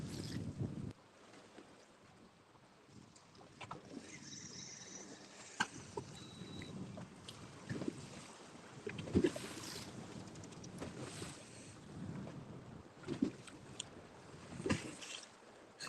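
Steady wind gusting across Lake Lanier around a bass fishing boat, a low, continuous rumble of buffeting on the microphone with light water sounds and no talking.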